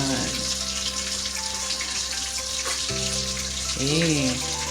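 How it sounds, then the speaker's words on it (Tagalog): Tilapia fries in a pan with a steady, loud crackling sizzle, and a voice briefly murmurs near the end. "Malapit nang maluto ang aking pritong tilapia."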